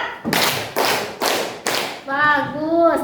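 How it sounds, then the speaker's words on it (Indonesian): A school class claps a rhythmic pattern together: four loud, close bursts of group clapping in even beats, followed by a voice speaking. "Tepuk 2, tepuk 1, tepuk 1 2 kali. Tepuk 4."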